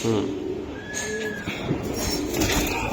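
Pigeons at a bird market, high-flyer breeds, coo softly in the background while people talk over them nearby.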